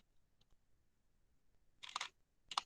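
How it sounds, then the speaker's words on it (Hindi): A camera shutter fires twice at a fast shutter speed, each a crisp, close mechanical click-burst set apart by a short pause in a quiet room. "फास्ट आपको आवाज आया, फास्ट आवाज आया, शटर स्पीड फास्ट हो रहा है।"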